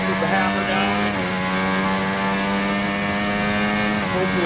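An F1 car engine in the game F1 24, racing at Bahrain, screams at full throttle with a steady high-pitched tonal whine that climbs slightly, loud and constant throughout, while someone talks over it.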